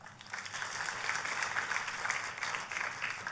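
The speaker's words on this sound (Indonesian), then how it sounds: "Boleh kasih tepuk tangan?" Applause from a church congregation during a sermon, a steady dense patter of many hands clapping at moderate distance, sustained evenly throughout without speech.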